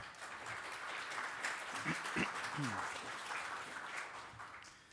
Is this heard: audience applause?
yes